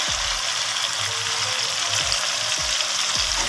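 Aloo anda curry of potatoes and eggs frying over medium heat. A steady, close sizzle and crackle runs throughout, broken by a few soft low thumps as the pan is stirred.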